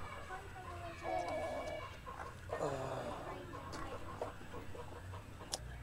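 A hungry broody hen on a farm gives soft, low clucks and a few short calls, close by over a quiet outdoor background, with no talking.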